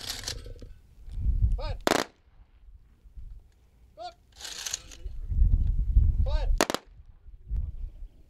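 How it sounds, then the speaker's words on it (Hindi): Soldiers fire a gun salute at an Indian Army soldier's funeral in Khariyan Kaniram village. Two sharp, loud volleys ring out several seconds apart, among crowd noise and wailing, high-pitched voices. "इस समय फायर की जा रही है इस समय।"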